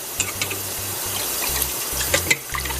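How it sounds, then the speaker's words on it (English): Water runs steadily from a tap into a bowl of rice, with faint splashes and soft clinks as the grains are swished around. "this is how I wash rice"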